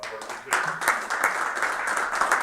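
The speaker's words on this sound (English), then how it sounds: "So another round of applause for" A group at a board meeting breaks into applause, sharp individual claps rising from a brief lull into a steady, fairly close round of clapping from a modest crowd.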